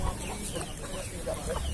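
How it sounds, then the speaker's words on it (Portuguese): A chicken clucks faintly a few times amid a busy, murmuring background of chatter at a poultry market in Palmeira dos Índios, Alagoas, Brazil. "Olha aquele galinha aí."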